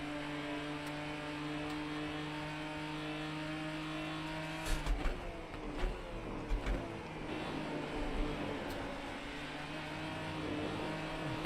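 An Audi race car engine in a racing video game holds a sustained high-pitched whine, then shifts and revs with bursts and tire-squeal-like noise. It stays fairly even and moderately loud, with no voices.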